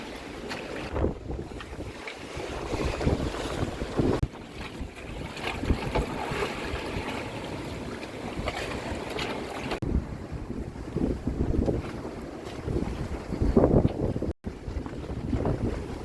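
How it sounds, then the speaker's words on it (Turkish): Storm wind howling over a sailboat anchored in a bay at night, with steady roaring gusts buffeting the microphone and waves slapping the hull, continuous and loud throughout. "Tam da demirde olduğumuz koya kafadan giriyor hava."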